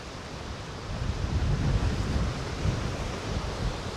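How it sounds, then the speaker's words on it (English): Gusty wind blowing across an exposed stretch of coastline at Costa Teguise, a steady rushing roar buffeting the microphone, swelling briefly louder midway, with surf-like hiss underneath and no talk. "The wind has got up"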